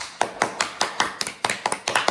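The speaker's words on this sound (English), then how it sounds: "And there's cheering and clapping, which I kind of like." Clapping at the end of the Hallmark movie Haul Out the Holly: Lit Up, sharp distinct hand claps in an uneven rhythm, about a dozen close, crisp strikes with no voices.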